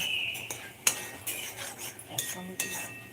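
Masala being stirred and sautéed in oil in a pan while cooking matar paneer, with a spoon clinking and scraping against the metal at irregular intervals over a soft, steady background hiss.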